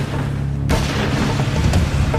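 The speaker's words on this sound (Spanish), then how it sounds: "Sonaron 2 disparos de un Magnum 357." Two sharp, booming shots from a .357 Magnum revolver fired in the back of a store, the first a sudden loud blast and a second hit about a second later, each trailing into a dense ringing wash.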